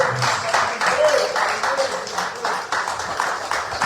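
A church congregation applauding during an evening service, rhythmic clapping that keeps going the whole time while a voice speaks over it.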